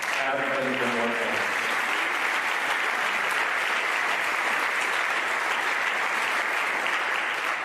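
Audience applause at a Mentor High School band concert, a dense, steady wash of clapping from a large crowd that fills the hall, with a voice briefly over the start.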